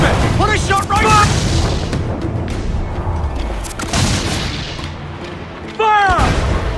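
Cannon fire aboard a pirate ship in a video game, a series of booming shots spread through the battle, loud and close, mixed with shouted orders and battle noise.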